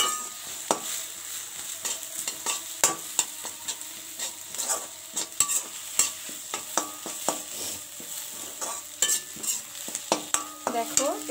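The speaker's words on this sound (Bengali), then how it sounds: "আমি একটা ডিম দিয়ে দিলাম দুধ এর সাথে একটু মিশিয়ে নিচ্ছি" An egg is beaten with milk using a utensil that gives repeated, rhythmic clinks and scrapes, with a faint sizzle beneath the mixing.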